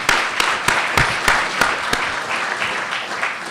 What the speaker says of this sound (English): I think you guys should give yourselves a round of applause